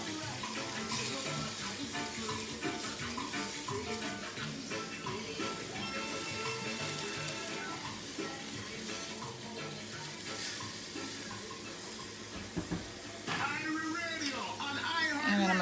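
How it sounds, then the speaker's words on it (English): Mushrooms frying in a pan with garlic powder, a loud steady sizzle close up, stirred with scraping utensil strokes, while a person talks over it and a tap-like splash rises near the end. "stir up my mushrooms."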